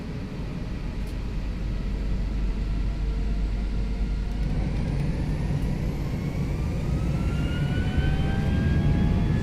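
Airbus A320 jet engines spool up for takeoff in a flight simulator, a steady loud rumble with rising whine tones that climb in pitch over several seconds, no talking.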